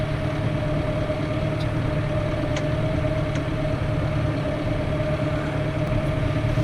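A farm tractor engine idles steadily during late-summer slurry spreading with an umbilical system, a loud, constant low drone with no breaks or other sounds.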